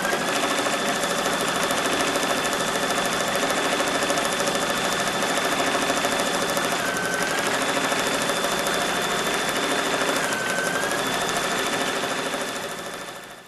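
Embroidery machine stitching a dragonfly wing on fabric with mylar, a fast steady mechanical needle chatter with a constant whine, close and loud, running continuously before slowing at the end.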